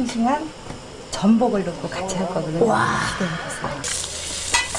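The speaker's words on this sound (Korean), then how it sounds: "먼저 밑간을 살짝한 소고기와 마늘을 함께 넣고 볶아줍니다." Lightly seasoned beef and garlic stir-fry in a pan, sizzling steadily beneath excited talk and exclamations, with clinks of utensils and a brighter hiss rising toward the end.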